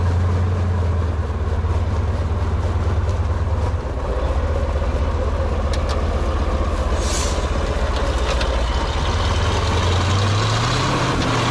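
A KAZ Kolkhida truck with Ural tyres and its differential lock engaged runs steadily close by, a continuous low engine drone with a faint rattle on top that holds at the same loudness throughout, with no talking.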